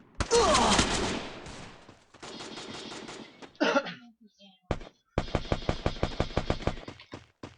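Gunfire rattles in a 4v4 first-person shooter video game: a dense opening fusillade, scattered single shots and short gaps, then a loud, regular burst of automatic fire, with voices heard along with it.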